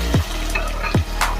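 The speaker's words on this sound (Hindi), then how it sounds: "अब इसमें लहसुन अदरक का पेस्ट और हरी मिर्चें डाल देंगे और इसको फ्राई करेंगे" Garlic-ginger paste and green chillies sizzle loudly in hot oil with potatoes, a steady close frying hiss broken by two brief stirring scrapes.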